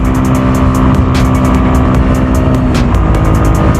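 A motorcycle with a loud muffler roars steadily and close by in Clark, Pampanga, its engine note a constant rumble with a few revving swells.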